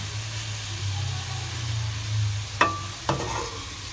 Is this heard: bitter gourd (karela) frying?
yes